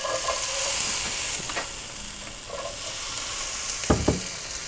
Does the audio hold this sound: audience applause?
no